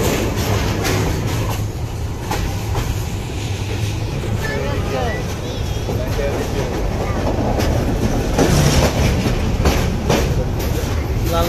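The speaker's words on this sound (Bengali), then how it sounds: "এখন ট্রেনটি লালমনি এক্সপ্রেস বঙ্গবন্ধু সেতুর উদ্দেশ্যে রওনা হয়ে যাবে" The Lalmoni Express rolls along the tracks toward the Bangabandhu Bridge, a loud, steady rumble and clatter heard from on board, with voices in the carriage beneath it.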